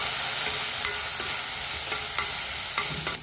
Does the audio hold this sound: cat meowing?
no